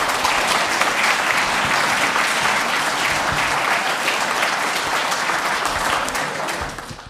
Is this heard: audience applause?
yes